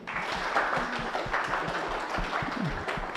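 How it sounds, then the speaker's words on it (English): An audience at a public lecture gives the panelists a steady round of applause, a dense wash of many hands clapping at moderate loudness for about three seconds. "A round of applause to the panelists, please."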